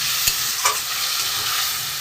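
Spice masala for a rui fish curry with potato and kochu fries in a pan, scorching slightly. It makes a dense, steady sizzle broken by two quick scrapes of a spatula.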